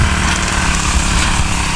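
A grass cutter engine drones loud and close on a farm, a continuous high buzzing with no pauses.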